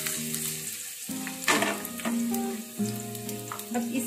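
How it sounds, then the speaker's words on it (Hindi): Ginger and garlic sizzle and crackle in hot oil in a pan while being stirred, with a steady frying hiss and a few scraping utensil sounds, close and fairly quiet. "ऑयल गरम हो गया है। अब इसमें हम ये अदरक डाल देंगे और ये लहसुन डाल देंगे"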